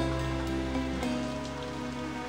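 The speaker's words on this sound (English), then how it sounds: "Go away, rain." Cartoon rain falls in a dense, steady patter over a soft, sustained musical background, with no voices.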